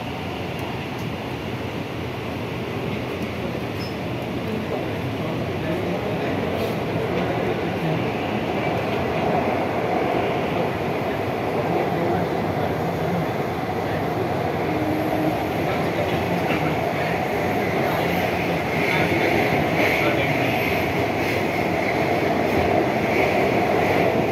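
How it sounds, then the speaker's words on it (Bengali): Kolkata metro train running through the tunnel beneath the Ganges, a steady broadband rumble and rail roar that holds loud and continuous throughout, with a faint rise toward the end. "গঙ্গার তলা দিয়ে যে মেট্রোর পরিষেবা চালু হয়েছে সেই জার্নি আমরা এবার স্টার্ট করব।"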